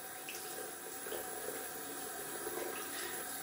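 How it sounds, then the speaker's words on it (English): Hot water runs steadily from a tap for rinsing a shaving brush, a faint even hiss and splash with no pauses and no talking. "Hot water is what I rinse with."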